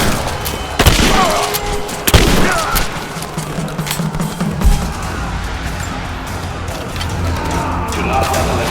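Suppressing gunfire in Rise of the Tomb Raider crackles in heavy bursts, with sharp loud shots and booming impacts early on and then sustained rattling fire, while voices shout over the battle.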